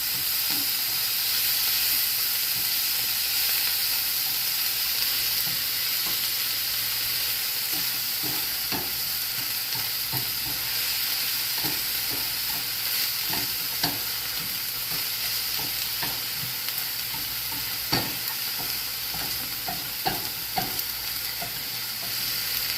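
A cheesy pizza quesadilla with crumbled sausage patty sizzles in a heating pan, a steady, hissing frying noise running throughout with scattered small crackles and pops, no talking.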